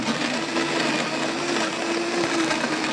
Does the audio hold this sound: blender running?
yes